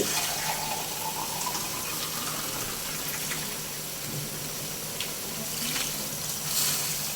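A glass of water is poured into a cooking pot of mussel soup (tinolang tahong), a steady splashing pour heard close up against a continuous low background hum.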